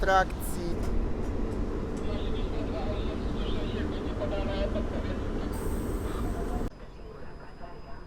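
An EU07 electric locomotive hauls a passenger train past, a loud, steady rumbling roar with rail clatter that runs continuously and then drops suddenly near the end, with a few high squeals on top.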